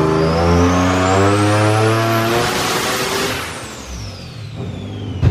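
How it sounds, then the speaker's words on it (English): A turbocharged Nissan 370Z revving hard on a dyno. The engine note climbs steadily with a rising turbo whistle over it, then the whistle drops away as the revs fall off. "That turbo sounds so good, bro."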